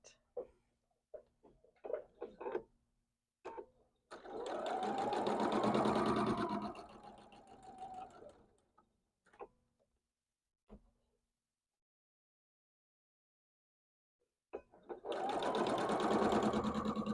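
A sewing machine stitches a quilt block in two steady whirring runs, one long and one starting near the end, separated by scattered clicks, fabric handling and quiet pauses.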